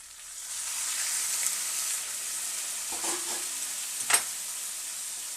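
Warm water poured onto fried, well-cooked masala in a pan sets off a steady close sizzle and steamy hiss, with a couple of short knocks near the end.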